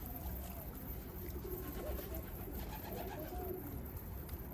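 Soft pigeon cooing in repeated low phrases over a steady background hum, fairly faint and unaccompanied by speech.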